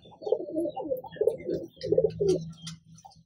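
Slaty Kaldume pigeons coo in a loft, a series of soft, throaty, rolling coos repeated in three or four bursts over a few seconds, close by and fairly quiet.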